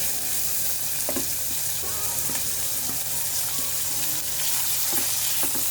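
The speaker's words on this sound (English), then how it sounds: "Now, when oil gets heated, add chopped onions." Chopped onions fry in hot oil, giving a steady, close hiss of sizzling that runs throughout with a few faint stirring clicks, and no talking.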